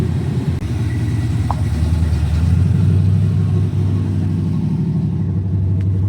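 A car engine idles a touch high, a steady, close low rumble with even pulsing that holds for the whole stretch, with no voices over it.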